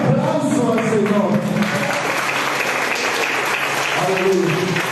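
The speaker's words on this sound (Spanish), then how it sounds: "Un aplauso al Señor." A church congregation claps for the Lord during a Spanish-language sermon, loud sustained applause with voices calling out over it, and the preacher's speech comes in toward the end.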